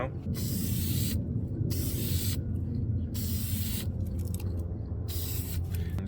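Dupli-Color vinyl and fabric specialty coating sprays from an aerosol can in close, loud hissing bursts with brief gaps between passes, laid on in extra coats to darken the finish.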